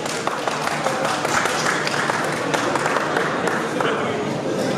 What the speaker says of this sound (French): Merci d'applaudir, s'il vous plaît.